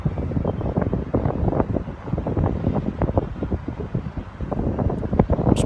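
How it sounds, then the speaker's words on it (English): Strong wind buffets the microphone outdoors in Birmingham, a continuous loud low rumble with gusty surges and no talking over it. "It is very windy out here"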